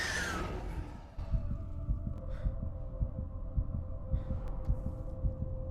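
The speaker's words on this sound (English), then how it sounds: "Is that his heartbeat?" Heartbeat sound effect from a Doctor Who episode: a low, regular thumping pulse repeating about twice a second under a faint steady hum, opening after a brief bright swish.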